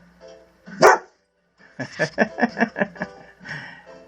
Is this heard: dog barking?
yes